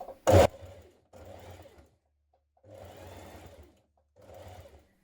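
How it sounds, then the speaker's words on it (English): A sewing machine stitches the skirt seam of a gymnastics leotard, running in four separate bursts with pauses between, fairly close and alone. "Now finish sewing your skirt to the bottom of your leotard."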